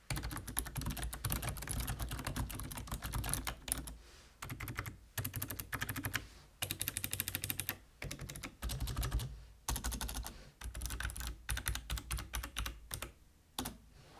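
Rapid, steady typing on a Razer Ornata V2 mecha-membrane keyboard, crisp clicky keystrokes close up in continuous bursts with a few short pauses, no talking.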